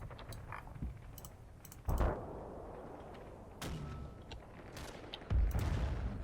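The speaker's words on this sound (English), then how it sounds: "Vickers machine gun." Vickers machine gun fire in the WWII wargame Combat Mission, heard as distant crackling bursts and sharp reports over a busy battlefield background, with a few louder thumps standing out.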